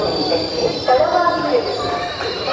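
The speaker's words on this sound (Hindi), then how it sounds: "हमारी ट्रेन का डिपार्चर हो रहा है बदामी रेलवे स्टेशन से" Shirdi Mysuru Express pulling out of Badami railway station, with a steady rolling rumble and faint metallic wheel tones under light speech, heard from on board the train.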